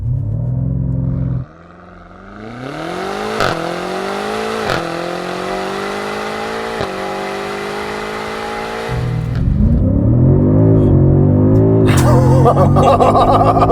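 A 2021 BMW M5 Competition pulls away under launch control: the engine idles, then climbs in a long rising roar that runs through several gear shifts, eases off and rumbles loudly again near the end, with no speech.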